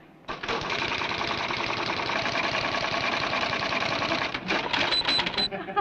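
A quiz teaching machine from a 1960s sitcom runs with a steady mechanical clatter, like a sewing machine or typewriter, for about four seconds. It then shifts to brief pings and rattles.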